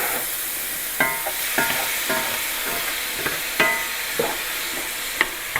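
Beef pieces searing in a hot pan for beef bourguignon: a steady, close frying sizzle broken by several sharp clicks and scrapes as the meat is turned, with no talking.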